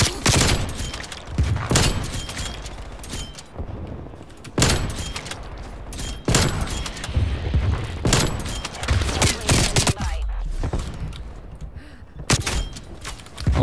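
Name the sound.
gunshots in video game Call of Duty Cold War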